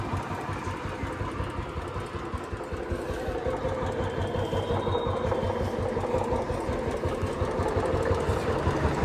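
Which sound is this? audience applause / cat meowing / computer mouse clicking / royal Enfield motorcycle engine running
royal Enfield motorcycle engine running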